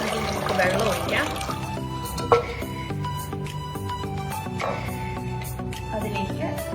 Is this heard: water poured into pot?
yes